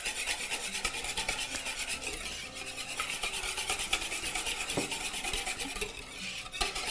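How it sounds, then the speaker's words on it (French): Ingredients for a fresh salad are stirred together in a bowl: a quiet, continuous scraping and rubbing of a utensil against the bowl, close up and steady, with occasional light clinks. "Donc, je mélange."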